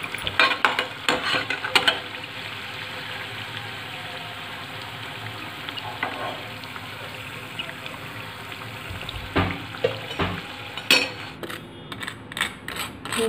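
Pan-frying potato tikki patties stuffed with chana dal sizzle and crackle steadily, with scattered pops and occasional stirring scrapes, close by and without talk.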